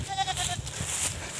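A young goat, about two months old, bleats several times in short wavering calls at close range outdoors on a farm while being moved to fresh grass, with wind and ground noise around it.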